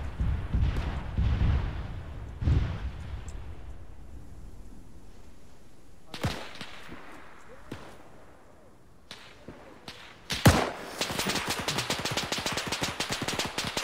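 Machine gun fire in the Arma 3 military simulation: scattered sharp cracks and booms early on, then a dense, rapid, loud burst of automatic fire near the end, with no voices.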